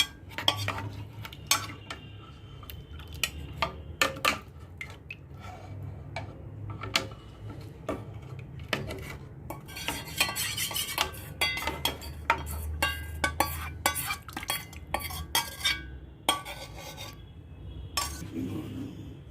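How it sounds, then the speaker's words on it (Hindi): A spoon scrapes and clinks repeatedly against a metal pot of yogurt-based mutton yakhani curry in steady, uneven strokes, close up with no talking. "तब तक हमें इसे लगातार चलाना पड़ेगा।"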